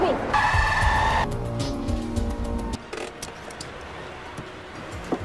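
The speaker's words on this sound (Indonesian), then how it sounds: "Inspektur Ho dan Teresa pun mengikuti arah burung elang itu terbang dengan menggunakan mobil." A car in a film chase scene tears along with roaring engine and squealing tyres, close and loud at first, then the roar gives way to quieter road noise and a cut in the sound.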